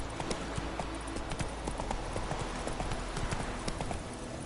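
Roach the horse gallops through The Witcher 3 video game, a steady run of clip-clop hoofbeats that carries on nonstop at moderate loudness over a faint background bed.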